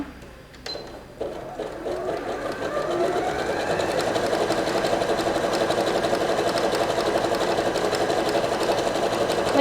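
A Bernette b38 sewing machine stitches a wide zigzag, starting with a few clicks, then settling into a steady, fast, whirring hum with a rapid needle rhythm, close and continuous.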